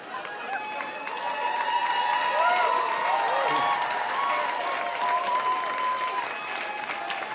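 A crowd applauding steadily, a dense continuous wash of clapping that holds at an even level throughout, with faint voices mixed in.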